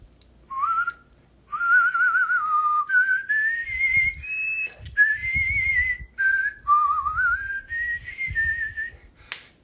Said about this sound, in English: it's like when you start whistling